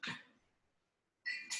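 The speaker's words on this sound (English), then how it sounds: "Getting out of the way of the dog here." A 10-month-old puppy lets out two short, faint barks, one at the start and another after a brief silence, in a quiet indoor room.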